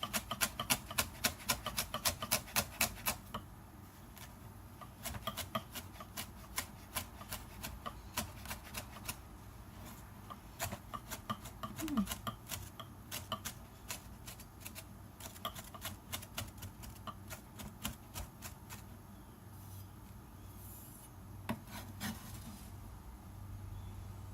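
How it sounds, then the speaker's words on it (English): A knife minces and chops oregano on a cutting board during home meal prep, with quick, sharp taps that are dense at first and then sparser and softer, heard alone and fairly faint. "So now we're gonna mince and separately cut this oregano."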